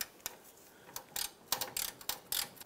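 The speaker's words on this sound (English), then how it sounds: "we can tighten down the forward bolt on the strap" A ratchet tightens the forward bolt on a fuel tank strap of a 2004-2012 Chevrolet Colorado, giving several quiet, close clicking bursts in an irregular rhythm.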